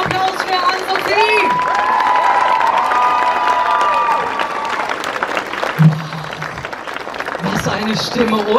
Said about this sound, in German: Ein riesigen Applaus für Anne-Sophie.